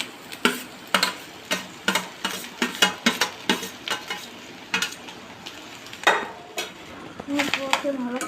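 A spoon scrapes and clinks through cooked rice being mixed into sauced vegetables in a pan for egg rice, in a run of sharp, rhythmic strokes close up, with a voice speaking lightly between them.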